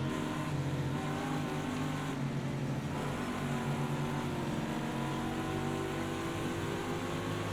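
Race cars at Road America in a racing video game, engines droning steadily and loud throughout with a constant mechanical hum, no voices.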